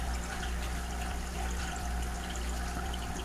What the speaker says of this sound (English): I'm going to put a little bit of the pearl in